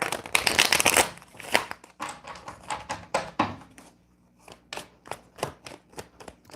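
A deck of tarot cards being shuffled up close: a dense riffle burst, then a run of separate soft slaps and taps as cards are squared and cut.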